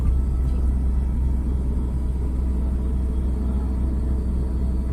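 Ordinary car driven on a road in second gear, a continuous low engine rumble with road noise held at a steady level, with no talking.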